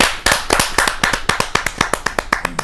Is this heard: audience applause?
yes